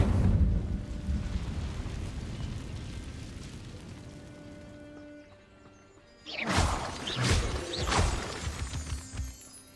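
Incendio fire spell cast in Hogwarts Legacy, a sudden loud shattering burst of flame after a quieter lull, followed by several crackling blasts and booms.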